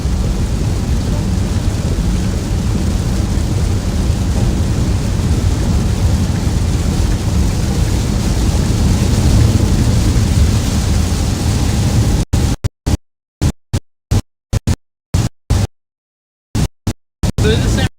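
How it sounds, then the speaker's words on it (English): Steady heavy rain roars for about twelve seconds during a southern storm, with low rumbling mixed in, then cuts out abruptly into a few choppy fragments separated by silence. "I think the rain's letting up finally."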